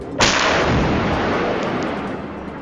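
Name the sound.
explosions heard at night, reportedly from a missile attack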